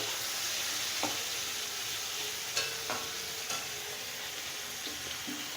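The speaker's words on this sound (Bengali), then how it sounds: "টমেটো আর ক্যাপসিকাম ভাজা হয়ে গেছে।" Tomato and capsicum frying in a pan: a soft, even sizzle runs throughout, broken by a few sharp utensil taps and scrapes, with no voices.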